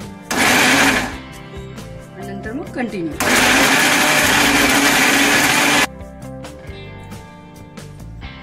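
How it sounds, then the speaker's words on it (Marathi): A mixer grinder grinding masala paste with water whirs loudly in two bursts, a short one then a longer run, with someone speaking briefly between and after them. "मग आपण मिक्सरला वाटून घेऊ"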